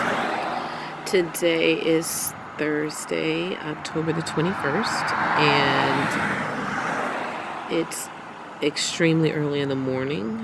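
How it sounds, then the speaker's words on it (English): Road traffic passing a public spot early in the morning, cars and trucks swelling and fading in the background beneath a person talking steadily. "It's just traffic coming by"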